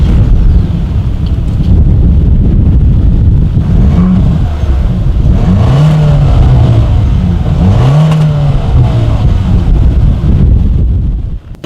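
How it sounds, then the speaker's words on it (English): A 2019 Ford Escape with dual chrome-tipped exhaust outlets revs several times up close, the engine note rising and falling in repeated swells over strong wind buffeting. "As always, here is that exhaust clip."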